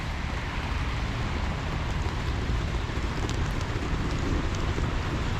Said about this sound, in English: And it's raining a lot.